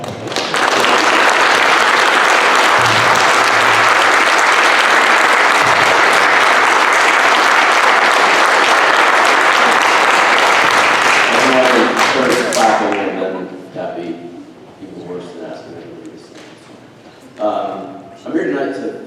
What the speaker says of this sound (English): I would like to give a round of applause.